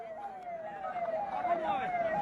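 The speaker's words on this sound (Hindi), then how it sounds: "रास्ता दे दे भाई, शायद एम्बुलेंस है, रास्ता दे दीजिए।" A wailing ambulance siren sweeps up and down repeatedly, fairly distant and faint, over low background noise from a large crowd filling the streets of Dhorimanna.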